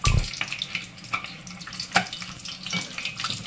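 Dahi vada lentil fritters frying in hot oil, a steady crackling sizzle with scattered bubbling pops and brief louder spatters, close and alone without talk.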